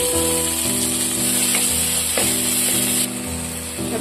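Onion, garlic, capsicum, chilli and tomato fry in a pan with a loud, continuous hiss close up, with a few faint clinks of stirring and no voices.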